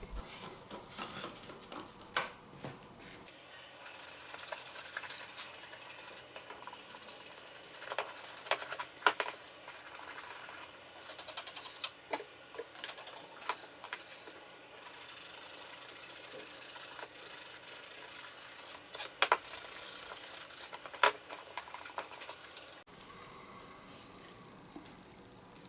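A soft toothbrush scrubs the blue knit upper of an Adidas Copa 20.1 football boot, making close, quiet, irregular rubbing strokes with occasional light taps.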